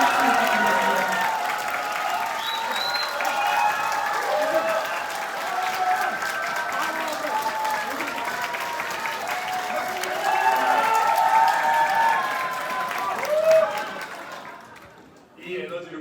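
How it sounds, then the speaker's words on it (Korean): A crowd applauds and cheers at a Reform Party victory rally for presidential candidate Lee Jun-seok, a steady, dense roar of clapping lasting many seconds before fading out near the end, with voices mixed in. "위원장님을 큰 박수로 모시겠습니다."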